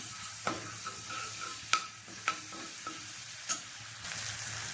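Ginger garlic paste sizzles in hot oil in a pan, a steady close frying hiss broken by a few sharp clicks of a spoon stirring against the pan, with no talk.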